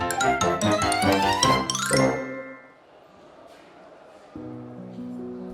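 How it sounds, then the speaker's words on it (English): A school bell, heard as a bright chiming melody of ringing tones that fades out, followed after a short quiet gap by a lower sustained tone. "Oh, the bell is ringing."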